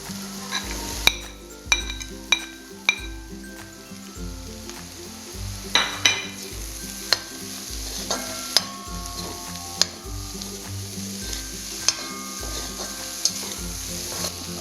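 Bitter gourd and grated coconut stir-fried in a pan for a Kerala thoran, with steady sizzling under repeated scraping and clinking strokes of a spoon against the pan, close and without talk.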